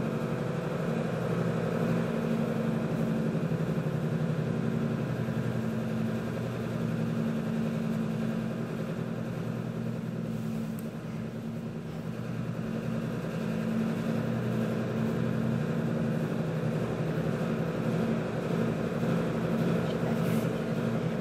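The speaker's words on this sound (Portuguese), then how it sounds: "a máquina de lavar roupa" A steady mechanical hum and low droning rumble of a washing machine running continuously, fairly loud and unchanging throughout.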